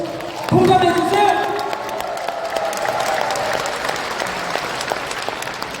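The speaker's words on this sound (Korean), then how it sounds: "공감되시면 박수로 공감해 주세요." A lecture audience at an expo in a convention hall bursts into applause on cue, a loud crowd clapping with a few cheers and whoops that peaks early and then settles into steady clapping.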